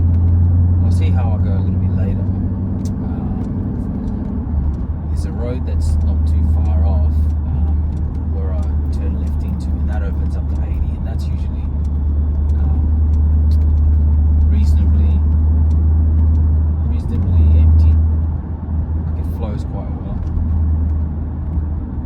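A 700-horsepower Jeep SRT engine driven gently in traffic gives a steady, deep rumbling drone that swells slightly at times, with someone talking over it throughout.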